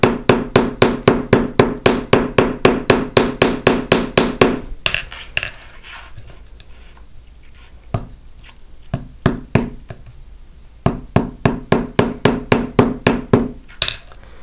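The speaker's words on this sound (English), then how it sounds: "all the wire that's left over that gets pushed to the top is what I have left to do my riveting" Rapid metal hammer taps shape a wire rivet head on a textured metal disc bracelet, fast even bursts of sharp strikes, then a pause with a few scattered taps, then another quick run.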